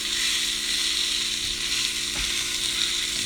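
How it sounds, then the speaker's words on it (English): Food searing in a cast iron frying pan, giving a steady, fairly loud broadband sizzle that holds evenly throughout with no talk. "Get a nice sear on it."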